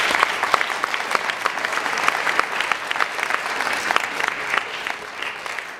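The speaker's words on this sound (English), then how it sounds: "one more round of applause for the seniors" An audience applauds high school seniors after closing remarks at a speaking competition, sustained crowd clapping with sharp individual claps throughout, steady and fairly close.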